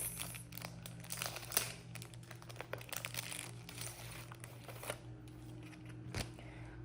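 Continuous crinkling and rustling of a plastic sticker packet being opened and handled up close for a craft shadow box, with scattered sharp crackles and one louder snap near the end, no voices.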